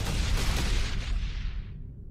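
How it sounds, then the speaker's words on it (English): Missile turrets firing on Banshees in StarCraft II, a dense roaring burst of rapid launches and blasts that stays loud before trailing off into a fading rumble. "those missile turrets are engaging us"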